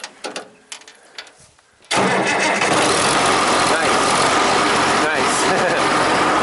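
A 1963 Oliver 1600 diesel tractor engine cranks and catches after a quiet start with faint handling sounds, then settles into a loud, steady, close diesel idle that runs to the end.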